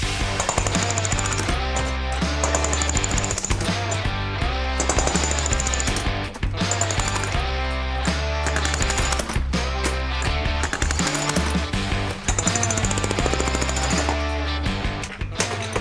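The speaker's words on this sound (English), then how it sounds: "you want to whale away with the jackhammer" Loud, continuous jackhammer pounding basement floor concrete in a rapid steady rattle, close by, with tones and thuds layered over it and no talk.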